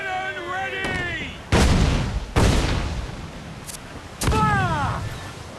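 Ship cannons fire in the pirate game Assassin's Creed 4 Black Flag: three loud, heavy booms with rolling tails, spaced a second or two apart, while crew voices shout between and around them.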